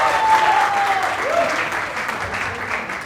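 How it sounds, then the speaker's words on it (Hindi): Audience applause at an Indian sangeet celebration, a steady wash of clapping filling the room for about three seconds, with a faint tonal whistle or feedback line early on. "एक बार जोर से तालियां हो जाए।"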